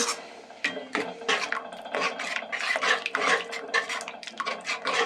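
A spinach dish stirred continuously in a pan, a spoon scraping and knocking against the metal in quick irregular strokes, close and fairly loud, with no talking.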